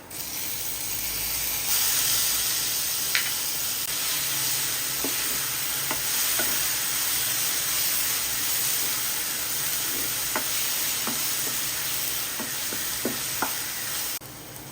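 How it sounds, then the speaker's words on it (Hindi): Sliced onions frying in a pan as ginger garlic paste goes in for an egg masala, a loud, steady sizzle throughout with occasional light spoon scrapes and taps from stirring. "ये अदा रसुण पेस्ट देदेबा गोटे चम्मच।"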